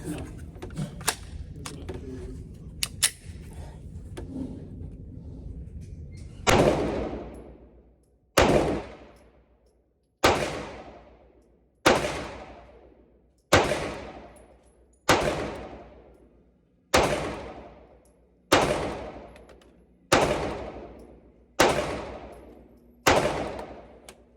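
Glock 43X pistol firing from a Shield Arms 15-round magazine, about eleven sharp, loud shots spaced roughly a second and a half apart, each with a ringing decay, after a quieter stretch of handling noise.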